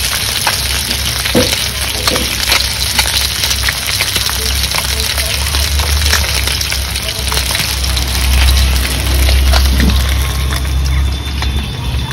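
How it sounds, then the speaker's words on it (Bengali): Singi fish fry in a pan of oil with a steady crackling sizzle, broken by sharp pops and spatters, and a low rumble underneath the whole time. "মাছ ভাজা হয়ে গেছে, এবার নামিয়ে নেব"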